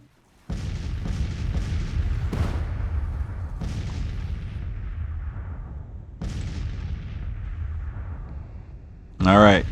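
Artillery fire in a Civil War strategy game, with a sustained battle din of repeated booming cannon shots and rolling gunfire, loud and continuous, ending in a brief sharp burst.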